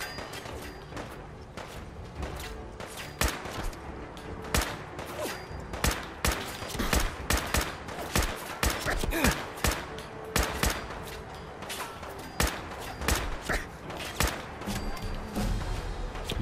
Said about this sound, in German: Na super, jetzt schießt. Ah, nee, das sind aber Raider.